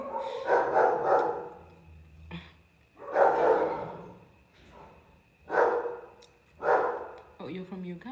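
A dog barks in bursts, several loud, spaced barks at moderate distance, mixed in with a person talking nearby.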